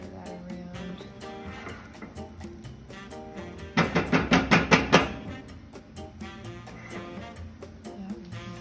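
A small spatula stirs beans in a pot for Cinco de Mayo nachos, a quick run of about seven rhythmic scraping strokes near the middle, while a person talks before and after.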